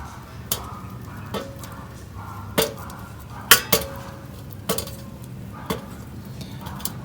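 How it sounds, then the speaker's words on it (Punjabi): Sharp metallic clinks and clatters of steamed amla (Indian gooseberries) dropped into a steel vessel, spaced irregularly about a second apart, with a quiet background. "ਹੁਣ ਇਹਨਾਂ ਨੂੰ ਇੱਕ ਭਾਂਡੇ 'ਚ ਕੱਢ ਲਾਂਗੇ"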